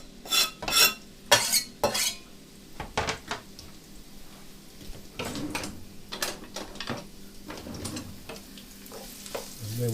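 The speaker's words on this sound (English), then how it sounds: "then we're ready to start frying the onions" Onions frying in hot oil for a vegetable curry, a soft sizzle under frequent clinks and scrapes of a utensil stirring in the pan, close by, busier at first and then steadier, no talking.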